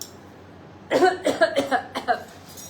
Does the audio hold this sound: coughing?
yes